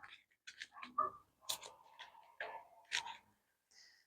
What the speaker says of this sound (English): So I'm just going to give these cards a really good shuffle